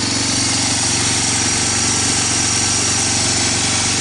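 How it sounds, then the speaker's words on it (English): A Honda TRX250 ATV engine idles steadily and close by, a continuous low mechanical chug with an even rhythm and no voices. "I got the idle turned up again."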